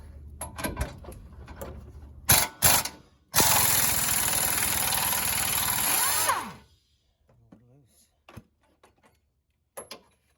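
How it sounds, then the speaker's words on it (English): An air impact wrench removes a lower control arm bolt on an LML Duramax Silverado: a few short bursts, then one loud, sustained hammering run of about three seconds, with clanks and quiet handling sounds afterward. "I'm gonna put my impact on the back end."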